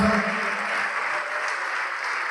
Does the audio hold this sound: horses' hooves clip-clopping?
no